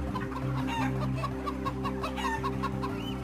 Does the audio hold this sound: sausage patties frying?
no